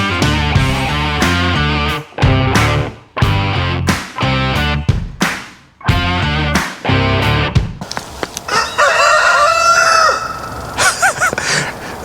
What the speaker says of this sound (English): A beautiful rooster crowing in harmony